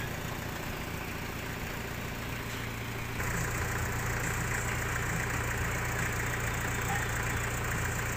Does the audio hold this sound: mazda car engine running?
yes